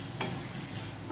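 Masoor pulao roasts in a hot pan while a utensil stirs it, scraping softly a couple of times over a constant frying hiss.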